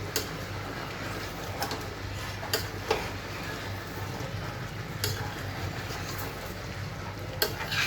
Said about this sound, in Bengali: তিন চার মিনিট পর ঢাকনাটা উঠিয়ে নিলাম জাস্ট একটু নেড়ে চেড়ে দেবো